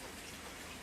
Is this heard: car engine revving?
no